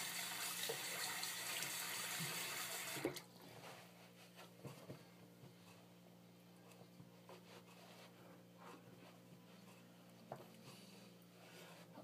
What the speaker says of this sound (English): I usually do a kind of a warm water rinse, not really hot, and then I do a cold water rinse.